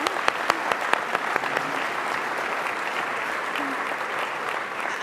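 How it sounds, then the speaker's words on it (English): Audience applause welcoming a guest at an awards ceremony, a sustained bed of many hands clapping at moderate distance, with a few sharp nearer claps standing out early on. "I didn't even get to introduce you before the applause broke out"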